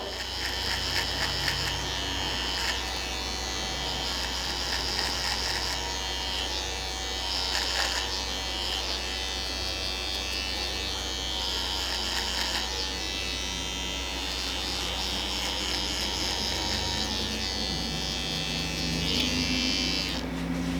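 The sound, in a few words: electric shaver buzzing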